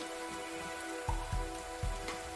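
Steady rain patters on a surface in a continuous hiss, broken by three soft low thumps near the middle, with no voices.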